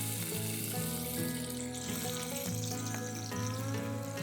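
Chopped onion frying in hot oil for a Kolhapuri mutton pickle, a close, dense sizzle and crackle running steadily throughout, accompanied by tonal background music, with no speech.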